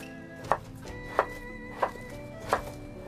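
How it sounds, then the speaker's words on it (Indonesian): A knife chops pumpkin into pieces, four evenly spaced thunks against a cutting board over a low steady background hum. "Lalu potong-potong. Nah, di sini saya potongnya seperti ini saja."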